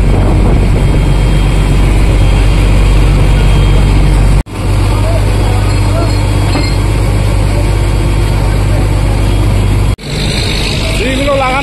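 A fishing boat engine runs loud and close in a steady heavy drone with strong low rumble, cutting out briefly twice before picking up again as the boat sets off, with voices talking over it.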